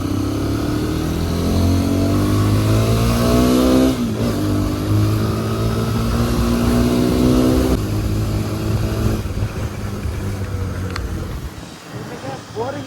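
A Hero Xpulse 210 motorcycle engine revs and pulls hard, its pitch rising steadily in two long climbs before easing off, loud and close, with wind rush and some talk over it.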